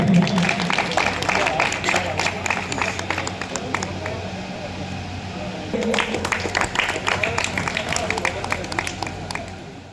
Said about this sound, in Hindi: जोरदार ताली होनी चाहिए भाई